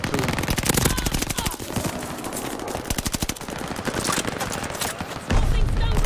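Rapid, dense automatic gunfire from the video game Call of Duty Vanguard, a Team Deathmatch on the Bocage map, with sustained bursts of close, loud shots filling the whole stretch and a heavier blast near the end.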